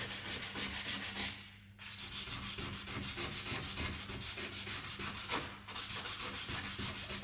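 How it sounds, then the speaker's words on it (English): Rubbing down peeled lacquer on the door handles of a red Vauxhall Corsa C SXi before primer: steady, close abrasive scrubbing strokes continue throughout, with two brief pauses and no speech. "So I'm rubbing the handles down now, trying to get them smooth where the lacquer's peeled."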